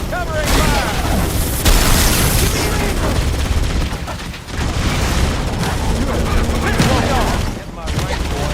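Dense, sustained gunfire and explosive booms from a Halo campaign battle, with rapid bursts and heavy blasts filling nearly the whole stretch, shouted combat voices mixed in.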